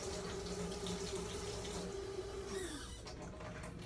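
Water running steadily from a tap into a sink while a spoon is washed, a constant close splashing rush with a faint tonal hum that drops away near the end.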